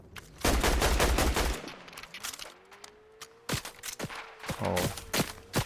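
Video game gunfire crackles in a dense rapid burst, then sharp isolated shots ring out over a rising whine, close and loud with no speech.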